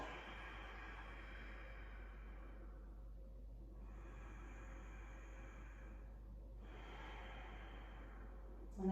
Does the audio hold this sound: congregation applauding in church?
no